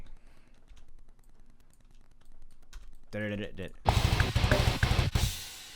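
Computer keyboard typing in a home music studio for writing a deathcore song, with rapid, loud, close key clatter in the final seconds after a quieter stretch.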